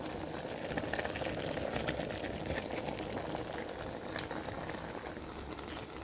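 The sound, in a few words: frozen shrimp boiling in a pot for pinakbet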